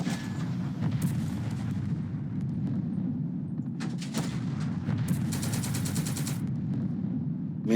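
Gunfire from the video game Second Front, with repeated sharp shot bursts and a volley of rapid fire near the end over a steady low rumbling battle background, no speech.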